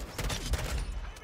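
Burst-fire M16 rifle shooting in Call of Duty MW2, a short, fairly quiet run of rapid gunshots with a dense, rumbling tail, heard up close with no talk.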